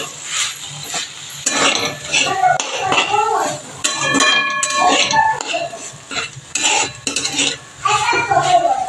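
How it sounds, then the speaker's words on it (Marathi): A green chili dish with peanut powder stirred in a pan, the utensil repeatedly scraping and clinking against the metal in a steady, close-up rhythm with no talking. "शेंगदाण्याचं कूट टाकून चांगलं 1-2 मिनिटं हलवून घेते."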